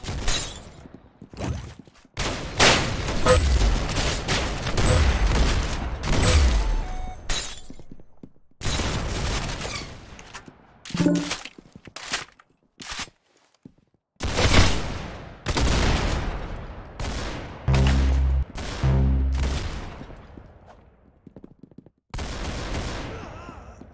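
Gunfire in the Roblox shooter Arsenal: loud bursts of shots and sharp cracks come in rapid clusters separated by brief pauses.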